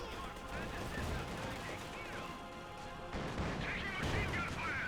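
A ZiS anti-tank gun fires in Company of Heroes 2 amid a busy battle of scattered gunfire and blasts, with a heavier burst partway through, all under a talking voice.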